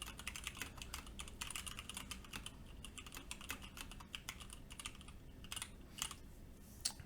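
Rapid, steady typing on a mechanical keyboard with a carbon fiber case, a dense run of crisp, close keystroke clacks with occasional heavier thocks.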